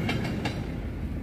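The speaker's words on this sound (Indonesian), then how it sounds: "Setelah bersilang dengan kereta api Kuto Jaya" The Kuto Jaya passenger train passes on the railway near Haurpugur station, a close, loud, steady rumble of rolling wagons with a few rhythmic clacks early on, with no one talking.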